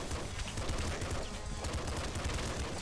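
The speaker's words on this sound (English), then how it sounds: "My accuracy with the SMG is awful." SMG fire in the video game Nuclear Throne rattles continuously in dense rapid shots, loud and busy throughout with no speech over it.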